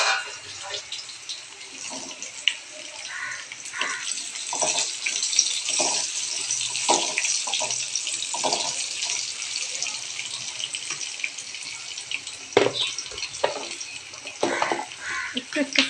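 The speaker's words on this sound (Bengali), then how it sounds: "একটু একটু ফ্রাই হচ্ছে" Sajna drumsticks (moringa) frying in a generous amount of hot oil in a pan, giving a steady hissing sizzle with scattered crackles and pops throughout, close up and with no talking.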